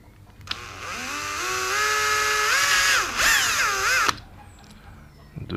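A power drill bores a hole into the housing of a GoPro Hero 7 Black camera, whining up in pitch over about three and a half seconds with a brief dip and rise before stopping abruptly.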